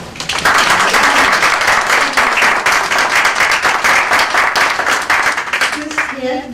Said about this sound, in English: I think you deserve a round of applause for it.